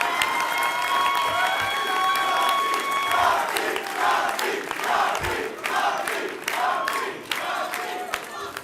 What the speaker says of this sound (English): Let's give Bob Duffy a round of applause